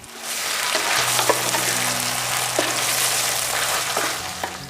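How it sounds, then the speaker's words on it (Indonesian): Red chilies and tomatoes fry in hot oil for a shrimp-paste sambal, a steady close sizzle filling the whole stretch with a low hum beneath and a few soft scrapes as the mixture is stirred. "ini akan kita goreng sampai cabai dan juga tomatnya"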